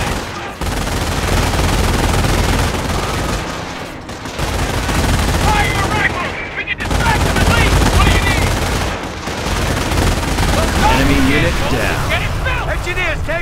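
Dense gunfire and rattling machine gun bursts fill a Company of Heroes battle in Sottevast, loud and nearly continuous with brief lulls, while soldiers shout over the shooting.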